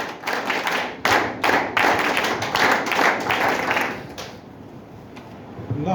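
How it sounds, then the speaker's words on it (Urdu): Audience applause at a scout opening ceremony, loud steady clapping with sharp hand claps for about four seconds before it fades out, then a brief rise at the end. "جناب فیصل جمیل صاحب, آپ کی بھرپور تالیوں میں اسکاٹ کلیپس لیٹس گو"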